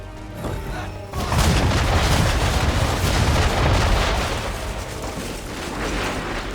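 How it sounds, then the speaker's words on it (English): Ship cannons from Assassin's Creed 3 fire a heavy broadside at an enemy vessel's bow, a loud burst of booming shots rolling into sustained rumbling thunder after a quieter opening, with no voices. "aim all guns at her bow and do as much damage as possible"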